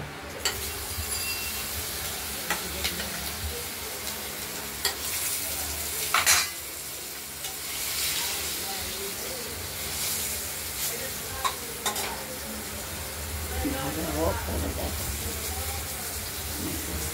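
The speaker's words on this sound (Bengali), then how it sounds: "এবার আলুগুলোকে আমরা ভেজে নেব।" Potatoes fry in oil in a pan tempered with dried chilli, bay leaf and cumin, a soft steady sizzle broken by stirring scrapes and sharp clinks of a utensil against the pan.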